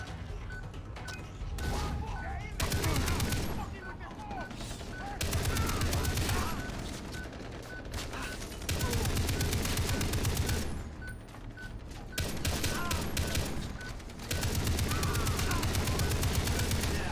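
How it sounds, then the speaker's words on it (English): A mounted turret machine gun in Far Cry 3 fires in several long, loud sustained bursts separated by brief pauses, with gunfire and crashes filling the scene. "Oh, the turret."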